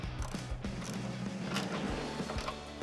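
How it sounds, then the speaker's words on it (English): A 10mm socket wrench tightening the nut on a black locking hood catch on a Jeep Wrangler JK, giving quiet, repeated ratcheting clicks at an uneven pace, close by, with no voices. "We're going to tighten this upper catch using a 4mm Allen for the bolt head, and then a 10mm socket to tighten these nuts up."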